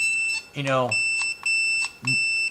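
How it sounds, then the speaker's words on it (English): A remote training dog collar from a wireless dog fence system buzzes in repeated short pulses with a steady tone, recorded close up while someone talks briefly over the first pulses. "the vibration part of the collar, so you can kind of get a general idea of seeing how that is kind of buzzing"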